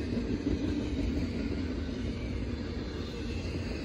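A steady low rumble of a short CSX freight train led by an ET44AH locomotive rolling past, constant and fairly loud, with no voices.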